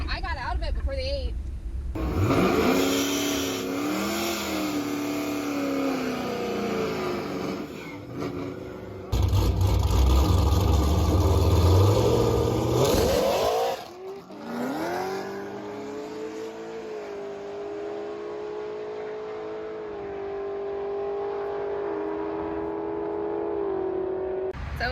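A Torqstorm-supercharged Pontiac G8 drag car at a Streetcar Takeover event in Michigan roars loudly, its engine climbing in pitch through rising revs and holding at the rev limiter, with crowd and track noise around it.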